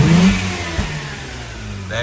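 Mazda RX8 with a 13B rotary engine suffering low compression, a short burst of loud revving close by that dips and rises again with rough, uneven engine roar.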